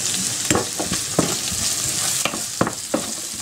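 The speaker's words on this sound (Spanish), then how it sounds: "Mientras se pocha la cebolla con la zanahoria y el ajo" Onion, carrot and garlic sizzle steadily in a hot pan, with a utensil scraping and stirring in irregular strokes.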